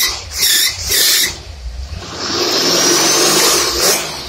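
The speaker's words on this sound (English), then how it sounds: "You hear a squeal, it's the belt on the alternator." A car engine fitted with an Autolite 4100 carburetor runs with a slipping alternator belt, giving a loud high-pitched squeal in short bursts and then a longer sustained squeal over the engine's rumble.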